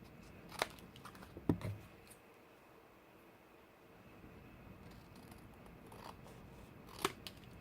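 Scissors trim paper for a backpack gift box in a few quiet, separate snips, with faint crisp cuts spaced across a mostly hushed stretch.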